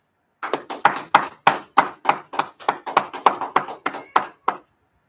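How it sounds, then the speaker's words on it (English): A group claps hands at a brotherhood class, about fifteen sharp, distinct claps in a fairly steady rhythm, close and clear against silence. "All right, clap it up."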